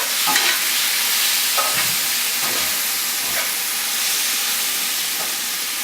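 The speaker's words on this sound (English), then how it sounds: "we're just going to toss it in here with the rest of the sauce" Homemade pappardelle is tossed and stirred through tomato sauce in a hot pan, giving a loud, constant sizzle broken by several scraping, sloshing stirring strokes.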